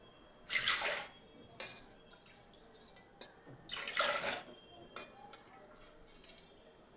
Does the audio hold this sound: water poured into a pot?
yes